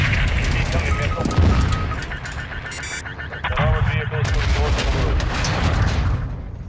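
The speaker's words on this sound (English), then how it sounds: "Incoming missile." Incoming missile strikes and combat erupt in the video game Call of Duty: Modern Warfare 2. Booming explosions and bursts of gunfire come and go amid radio chatter and other game sounds.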